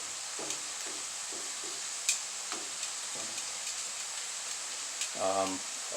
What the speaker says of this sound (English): So this first phase, we're just cooking it.